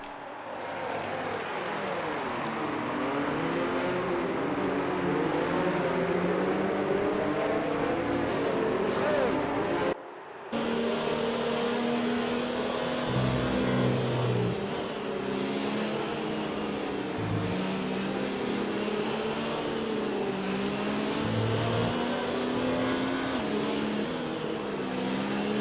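Race cars idle and crawl in a pack behind the safety car at Austria in F1 2019 on Xbox, a steady dense engine drone with shifting pitch filling the whole stretch, broken by one brief drop near the middle.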